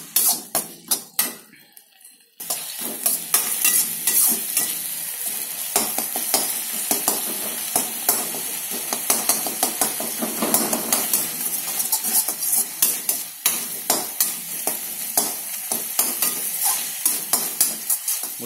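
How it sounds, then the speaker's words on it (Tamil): Tomatoes sauté in a hot pan, sizzling steadily under frequent sharp scrapes and taps of a spoon against metal as they are stirred, close and continuous. "இப்போ தக்காளி எடுத்து கொட்டிடுவோம். தக்காளி நல்லா வதங்குற வரைக்கும் போடுங்க."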